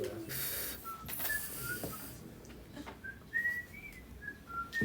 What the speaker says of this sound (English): Then do you whistle blowing in or blowing out?